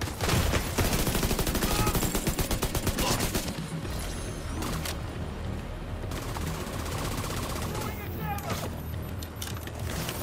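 Rapid bursts of automatic turret gunfire in The Division 2, loud and close, rattling steadily through the first few seconds and then continuing in broken volleys amid other game noise.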